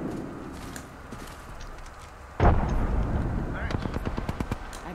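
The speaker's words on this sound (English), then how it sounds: "Frag out." A frag grenade goes off in Apex Legends with one sudden loud blast, followed by a rapid train of sharp gunfire cracks and low rumbling, with a voice faintly underneath.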